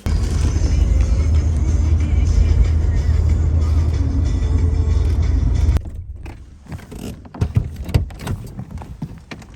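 A car engine roars loudly and steadily for several seconds while the vehicle sits stuck in sand, then cuts off abruptly, leaving quieter shuffling, knocks and faint voices.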